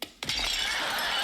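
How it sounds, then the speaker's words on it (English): A cut glass crystal wine decanter shatters with a sharp initial crack, then a second burst of breaking glass that trails into a sustained tinkling spray of shards. "No, it's a cut glass crystal wine decanter."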